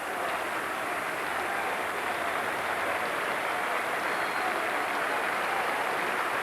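A cricket crowd at The Oval applauds steadily as the England team walks out during a Test match against South Africa, a sustained, even wash of distant clapping with no talk.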